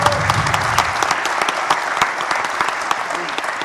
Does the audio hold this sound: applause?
yes